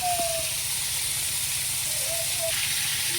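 Vegetable stalks fry in oil with a constant, close hiss and crackle, while faint voices drift in the background.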